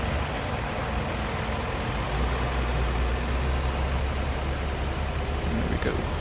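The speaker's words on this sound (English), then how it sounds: "Start the engines." A farm tractor engine, heavy and low, starts and then runs loud and steady at a constant idle for several seconds, dominating throughout.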